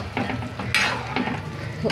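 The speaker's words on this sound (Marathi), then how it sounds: "आता मी याच्यामध्ये ह्याची ग्रेव्ही आपण मिक्सरमध्ये वाटली तर टाकणार आहे" Ground gravy poured into chana usal in a hot pan sizzles and is stirred, with a scraping stir and a sharp burst of frying noise partway through, close and fairly loud with no talk.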